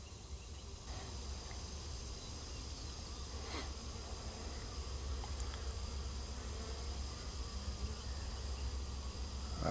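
A honeybee swarm hums faintly around extracted and brood comb outdoors in July, a soft, continuous, distant-sounding buzz with a steady high whine above it and no talk.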